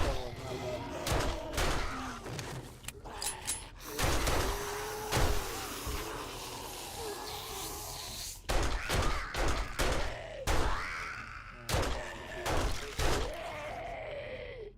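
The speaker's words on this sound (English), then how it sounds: "Sorry, I couldn't hear you over the gunshots." Gunfire during a blood moon horde night in the zombie survival game 7 Days to Die, sharp shots and bursts scattered irregularly across the clip amid groaning and other game noise, with voices talking at times.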